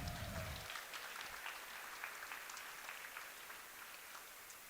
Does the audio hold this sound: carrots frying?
no